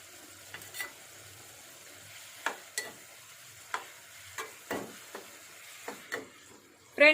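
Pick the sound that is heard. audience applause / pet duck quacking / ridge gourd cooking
ridge gourd cooking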